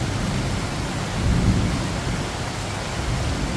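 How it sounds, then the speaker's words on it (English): Heavy rain pours down during a massive nighttime thunderstorm in Bangkok, a dense, constant hiss with a low thunder rumble swelling midway, heard from a sheltered balcony. "Look at that lightning and you can hear the thunder."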